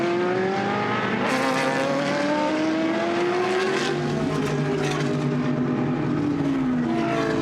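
GT race cars in the Blancpain GT Sports Club main race at Misano circuit, braking through the turn 12 kink. A loud, continuous engine roar climbs and falls in pitch as the cars pass, with no talking.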